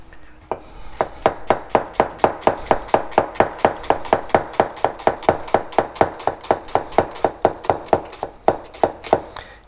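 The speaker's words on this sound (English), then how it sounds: "you want to roll your onion over and then keep cutting" A knife chops steadily through an onion on a cutting board, dozens of crisp, evenly spaced knocks in a fast regular rhythm, close and clear with no talking.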